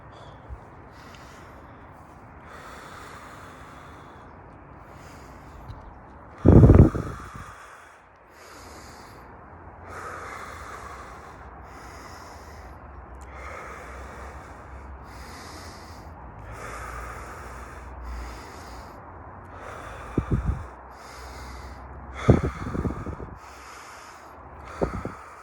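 Deep breathing exercise of three breaths: long, airy inhales and exhales run over many seconds, with a few sharp, loud snort-like bursts of forceful breath standing out among them, close to the microphone.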